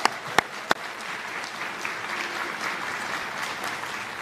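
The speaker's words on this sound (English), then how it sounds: "Please give them a round of applause." An audience at a Gardiner Area High School Class Day ceremony applauds the graduating class of 2022, opening with a few sharp individual claps before settling into sustained, even clapping throughout.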